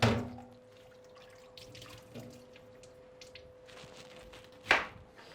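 Running tap water rinses plantain over a sink, a steady stream with a faint hum, a brief splash near the start and a louder burst of water near the end.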